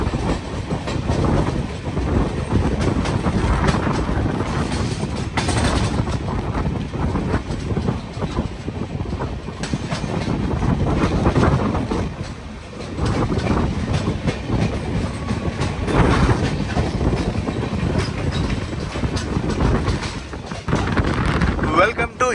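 The Visakhapatnam–Kollam Express near Eluru railway station rolls along in a loud, steady rumble with rhythmic clickety-clack of the wagons and gusts of wind buffeting the microphone throughout.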